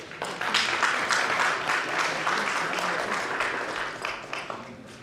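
Applause from an audience at an embassy gathering in Moscow marking Ghana's independence anniversary, a steady crowd clapping for two speakers that holds for about five seconds at moderate, even loudness.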